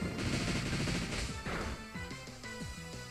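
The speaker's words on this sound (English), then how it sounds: "Let's go for a bullet punch." Bullet Punch attack in the video game Pokémon Sun: loud, dense battle effects with heavy impact bursts in the first half, then a rapid stepping run of punchy metallic hits over game music, with no talk.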